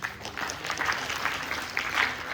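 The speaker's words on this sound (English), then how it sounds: "We should clap for both of them." Audience clapping during a careers talk, a short steady burst of many hands filling the whole moment at close range.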